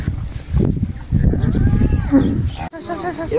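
Cattle at a cattle farm give a couple of loud, close, drawn-out moos over a noisy outdoor background with brief voices nearby.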